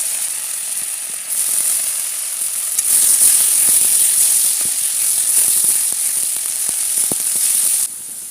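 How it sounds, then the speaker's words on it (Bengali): Onion paste fries in hot oil for an egg malai curry, giving a loud, steady sizzle that swells and holds with crackling pops throughout. "পেঁয়াজ ভালো করে ভেজে নিয়েছি"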